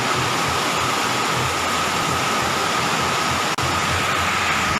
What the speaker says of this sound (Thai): มาดูข้างนอก นี่คือห้าโมงเย็น ณทาวีทาวสเตชัน นี่คือหน้าบ้านลุงดุ๊บนะ เห็นฝนยัง